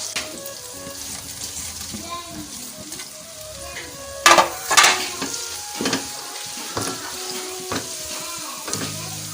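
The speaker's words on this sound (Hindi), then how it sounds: "बस इसको थोड़ी देर और फ्राई करेंगे" Masala sizzles steadily in a pan for a Bihari-style eggplant curry, with stirring scrapes and a few sharper clatters of the spoon against the pan about halfway through.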